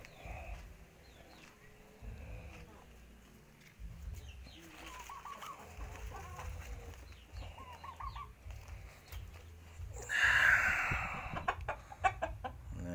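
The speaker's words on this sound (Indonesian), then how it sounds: "Ini yang ayam Saigon." Saigon fighting rooster, a male gamecock, clucking and calling on and off over about thirteen seconds, with a louder burst near the end against low rumbling background noise.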